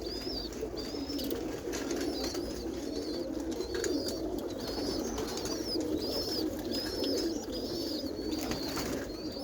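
Roller pigeon cock birds coo repeatedly in a steady, rhythmic series of soft calls over a constant low rumble of outdoor background noise, moderately close and continuing throughout.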